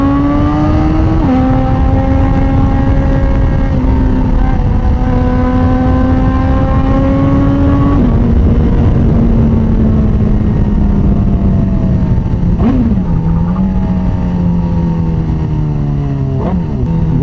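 A BMW HP4 sport motorcycle engine, loud and close, climbing in pitch through several rising revs with brief drops between, ending in a couple of quick throttle blips.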